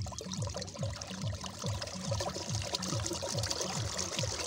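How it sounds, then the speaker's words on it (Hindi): Irrigation water pours from a field pipe outlet on a farm in a steady, close gush, with a repeating low rhythmic pulse under the continuous rush of flowing water. "ये ऐसे पानी निकलता है,"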